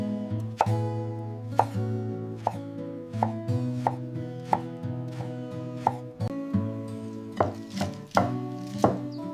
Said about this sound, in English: Chopping them very finely.